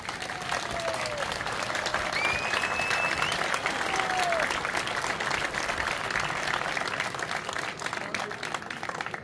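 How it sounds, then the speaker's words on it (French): A crowd at a motorcyclists' blessing in Lorraine claps continuously in a dense, sustained round of applause, with faint whistles and voices mixed into the clapping. "je vais vous demander de vous applaudir les uns les autres"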